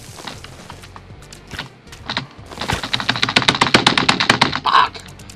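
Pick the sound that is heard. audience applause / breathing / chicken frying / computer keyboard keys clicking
computer keyboard keys clicking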